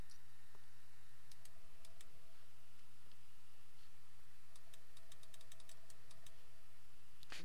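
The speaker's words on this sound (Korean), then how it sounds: "키가 잘안 눌려요. 제 키보드를 좀 바꿔야 될것 같아요." Clicks from a computer keyboard during a Diablo 3 session on a PC, a sticky board whose keys don't press well, come in sparse single taps and short fast bursts, faint beneath a constant low electrical hum, with no talk.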